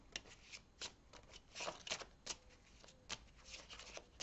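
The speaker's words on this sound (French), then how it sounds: "je vais commencer avec votre tirage avec le Yagel Didier" Tarot cards being shuffled for a reading, a run of soft riffling flutters and light slaps in an uneven rhythm, close and fairly quiet with no talking.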